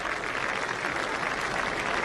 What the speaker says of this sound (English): so generous applause from the crowd here as he leaves the pit